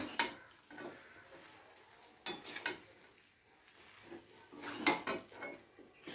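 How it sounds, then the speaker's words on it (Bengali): Utensil scraping and clanking against a pot while prawn and winter vegetable curry is stirred, a few distinct bursts of stirring separated by quieter gaps, close and fairly soft with no talk. "ধনেপাতাটা দিয়ে আর মিষ্টিটা দিয়ে আবারও একবার খুব ভালো করে সব কিছুর সাথে মিশিয়ে নেব।"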